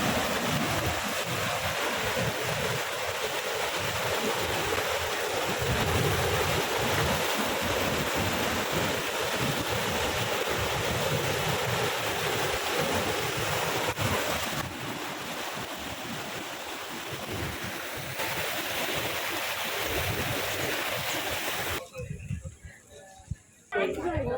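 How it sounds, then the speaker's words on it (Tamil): Steady loud rush of water flowing through an irrigation canal fills the scene, broad and continuous, with some wind buffeting; it cuts off abruptly near the end. "இந்த வாய்க்கால்லாம் இருக்கும்ல, அதுக்கு தண்ணி திறந்து விட்ருக்காங்க. செம்ம போகுது."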